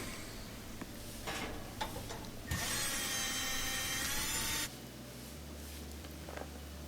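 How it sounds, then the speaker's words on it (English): A 1/4 inch driver spins off small machine screws holding an old oven igniter, giving a short buzzing whir of a couple of seconds amid faint clicks and ticks in a quiet room. "I'll use 1/4 inch driver to spin off these little machine screws that are holding on the old igniter"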